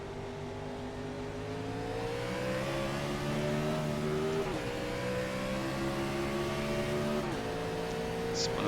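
A Gen 4 stock race car on a restart at Atlanta in the iRacing sim, engine revving hard through the gears with steady rising whine and brief shift dips, loud and continuous with other cars around.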